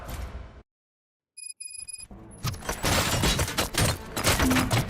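Gunfire in RoboCop: Rogue City, a burst of rapid, loud shots crackling densely after a short silence and a few high electronic tones.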